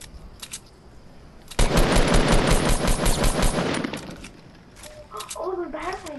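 Automatic gunfire in the Fortnite video game, a dense sustained burst of rapid shots lasting a few seconds, loud and close, with game sound effects following and people talking.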